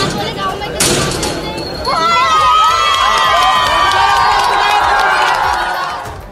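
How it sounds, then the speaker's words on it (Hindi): Schoolgirls cheer and shout as a crowd after a liquor shop's padlock is smashed with a hammer, a sharp burst giving way to sustained loud, excited voices. "मौजूद लड़कियों ने खूब तालियां बजाई"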